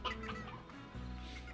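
Chickens clucking in the video game Slime Rancher, a short burst of close, overlapping clucks and fowl calls against a faint background tone.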